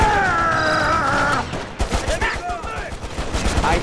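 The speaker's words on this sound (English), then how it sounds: "Can you stop shooting me with your pistol?" Pistol gunfire in the video game Mercenaries 2, a run of quick shots mixed with other game noise after a tonal stretch, fairly loud and close.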